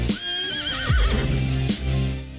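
A horse neighs loudly and close, a long wavering whinny that rises and falls, followed by a shorter snort-like call, with no talk.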